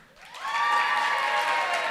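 A crowd at a Film Prize awards ceremony breaks into applause, the clapping swelling within the first half second and then holding steady and loud, mixed with a few cheers from the audience.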